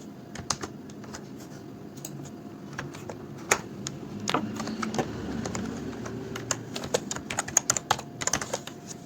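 Computer keyboard typing in irregular bursts of close, crisp key clicks with occasional louder keystrokes, heard during data-analysis work with no talk.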